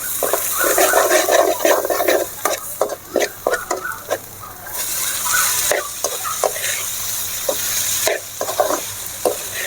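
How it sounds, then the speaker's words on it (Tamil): Cooked rice being stirred together with onion thokku, an onion relish, in a pan, giving a steady run of scraping, clacking spoon strokes over a soft sizzle, close and fairly loud, with no talking. "செஞ்சு வச்ச இந்த வெங்காய தொக்கையும் இதில் போட்டுக்கலாம் அது கூட சாதத்தையும் போட்டு நல்லா கலரி விட வேண்டியதான்"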